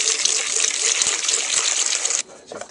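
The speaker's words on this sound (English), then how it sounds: "mix it up with some warm water from the spigot" Warm water running from a spigot while mixing a sanitizing solution for homebrewing, a loud, close, steady gush that cuts off abruptly near the end, followed by faint clinks.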